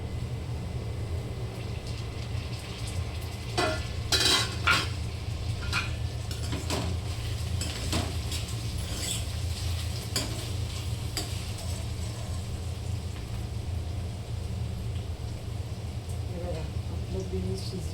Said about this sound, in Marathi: आपण हा मसाला आता ॲड करून घेऊयात आणि छान तेव्हा परतून घेऊयात मस्त